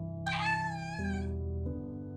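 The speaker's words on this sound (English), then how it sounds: "A cat, little kitten, is meowing to get let in." A small kitten gives one drawn-out, plaintive meow close up, heard over a steady sustained musical drone of low tones that shifts pitch twice.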